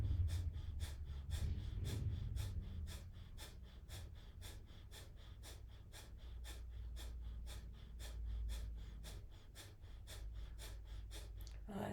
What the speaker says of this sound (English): continue with long, deep breathing